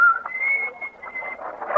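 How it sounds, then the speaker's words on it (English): A man whistles a jaunty tune on a bright, wavering melodic line, close and clear, short phrases sliding between notes with no other sounds around. "whistling a jaunty tune..."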